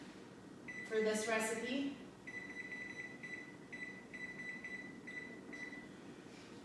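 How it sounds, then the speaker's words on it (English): An oven control panel beeps repeatedly while a temperature of 425 is being set, with short bright electronic tones in an uneven sequence. A person speaks briefly over the first beeps. "I'm gonna turn up the oven to 425"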